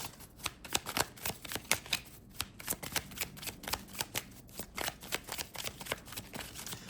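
Tarot cards shuffled and drawn by hand, a continuous stream of soft, quick flicks and papery slaps at close range, fairly quiet and without any voice.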